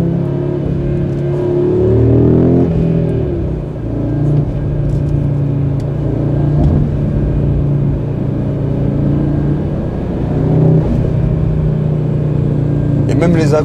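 A sports car engine pulls and revs hard while driving, a steady loud drone with rising and falling pitch as it accelerates, heard from inside the cabin with someone talking over it.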